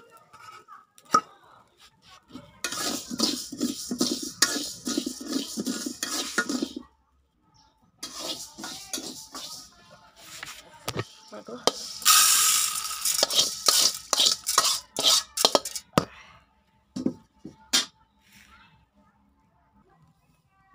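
Rice being stirred as it pan-fries, with repeated scraping and clattering of a utensil against the pan in bursts separated by short pauses, close and fairly loud, with brief sizzling and no talk.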